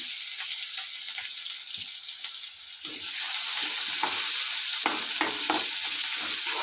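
Crushed ginger paste hits hot oil in a pan, setting off a steady sizzle that grows louder partway through, with occasional spoon scrapes and taps while it is stirred.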